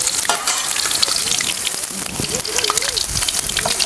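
Ripe banana pieces deep-frying in hot oil, a dense steady sizzle and crackle filling the whole stretch, close and loud, with a faint voice murmuring underneath.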